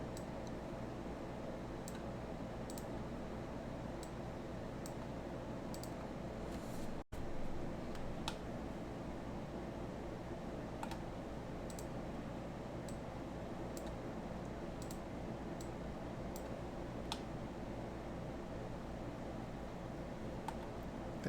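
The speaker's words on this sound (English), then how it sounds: "Clicking here to move the manipulator." Faint, sharp mouse clicks tick at irregular intervals over a low steady hum while someone works in Blender 3D software, retopologizing a sculpted dragon mesh.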